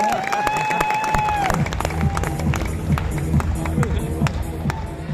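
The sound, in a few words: applause for the guest at an event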